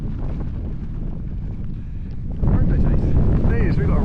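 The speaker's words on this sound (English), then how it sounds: "It's a bit windy today." Wind buffets the microphone in a constant low rumble while bikepacking on the Gower, growing stronger partway through, with faint voices audible beneath the gusts.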